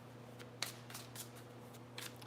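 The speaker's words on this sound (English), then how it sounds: "shuffle the cards." A tarot card deck being shuffled up close, producing quiet riffling snaps and soft flicks over a faint steady hum, with a few sharper card clicks in quick succession.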